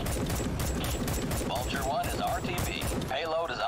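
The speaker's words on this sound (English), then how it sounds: "Just mag dumped it and killed it." Rapid automatic gunfire bursts from the mech combat game Armored Core VI: Fires of Rubicon as a magazine is emptied, crackling and dense under continuous game sound, with no talk over it.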